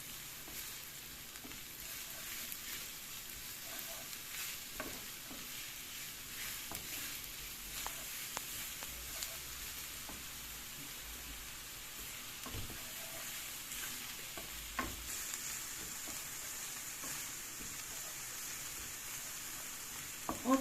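Milk thistle greens and fresh onion sauté in a pan with a soft, steady sizzle and crackle, broken by occasional light clinks and stirring scrapes, continuous and fairly quiet, with no voices.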